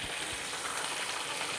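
Dried red chillies sizzle and crackle in hot oil in a pan while tempering for temple-style pulihora tamarind rice, a steady close, continuous fry hiss with no talk.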